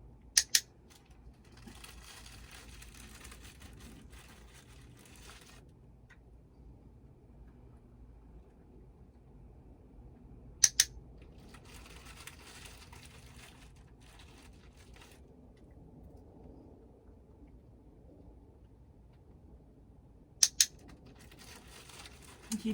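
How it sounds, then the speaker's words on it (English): A pet training clicker gives sharp double clicks three times, spaced about ten seconds apart, over a quiet room background with faint rustling between them. "take the clicker out of my pocket and just use it neutrally next to my side"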